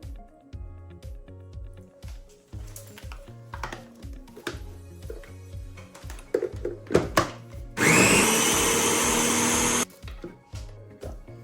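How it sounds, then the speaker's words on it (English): Blender whirring loudly and steadily for about two seconds, puréeing ginger, garlic and olive oil into a paste, preceded by knocking and clattering kitchen sounds. "I blended together 3 inches of ginger, 2 bulbs of garlic and some olive oil"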